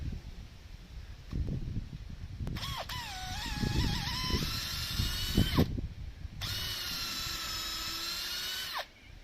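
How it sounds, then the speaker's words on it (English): A power drill whines in two bursts, its pitch rising and dipping as it pre-drills into timber beams of a cabin kit, with knocking and handling noises underneath. "So we pre-drill."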